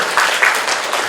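A school-event audience at a high-school admissions briefing applauds in a brief burst of dense, steady clapping from many hands.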